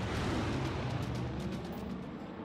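Bomber strike explosions in the strategy video game Civilization 6, a dense, continuous rumble of blasts and booming impacts filling the whole moment, loud and without speech.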